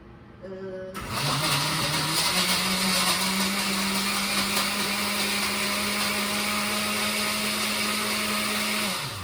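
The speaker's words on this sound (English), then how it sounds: "I'm gonna put it on blend." A blender making a milkshake kicks on after a brief pause and whirs loudly and steadily, with a constant motor hum and grinding churn, no talking over it.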